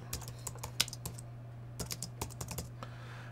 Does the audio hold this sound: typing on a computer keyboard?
yes